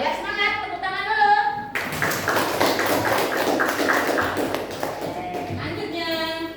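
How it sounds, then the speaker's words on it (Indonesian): A classroom of students breaks into loud, dense group clapping lasting several seconds, with a teacher's voice heard just before and after. "Biar semangat, tepuk tangan dulu."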